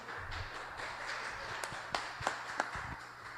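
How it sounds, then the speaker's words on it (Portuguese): Church congregation clapping during a Wednesday service, a scattered, faint round of applause with a few sharper individual claps standing out, heard at a distance in a quiet hall. "Uma linda salva de palmas ao Senhor"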